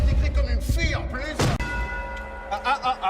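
A single strike of a bell rings out amid comic voices and thumps, leaving a sustained metallic tone that fades slowly over the next second.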